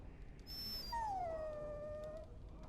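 A warhound in the Dragon Age: Origins video game lets out a high, drawn-out whimpering whine that slides downward and fades over about a second and a half, close and alone against a quiet background.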